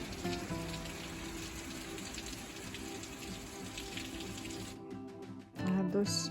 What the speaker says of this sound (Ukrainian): А дощ досі йде і йде.